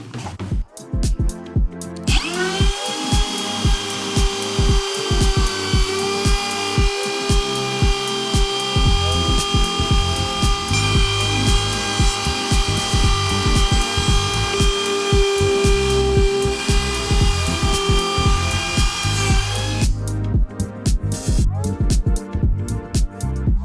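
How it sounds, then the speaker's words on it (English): A power router whines steadily at a high pitch for most of the stretch, cutting through a wooden desk with a constant grinding tone, loud and close. "this is a pretty straight routing process here"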